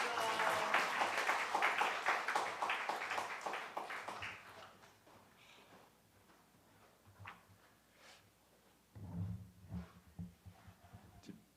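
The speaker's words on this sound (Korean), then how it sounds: "목사님 나오실 때 우리 박수와 할렐루야로 우리 환영하겠습니다" Applause in a church service welcoming the pastor swells at the start and fades away over several seconds, leaving scattered faint taps and a few soft sounds afterward.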